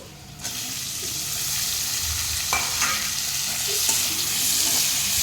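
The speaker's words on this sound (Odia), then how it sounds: "ଟମାଟୋ ଟିକେ ଭାଜିଦେବା ତେଲରେ" Tomatoes join browned onions in hot oil and fry with a bright, continuous sizzle. A few soft clinks of stirring rise above the steady crackle, and no one speaks.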